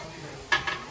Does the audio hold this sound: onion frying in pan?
yes